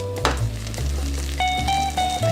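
Steady frying sizzle of beef in a hot pan, continuous and close, with a low hum underneath and a few faint tonal beeps partway through.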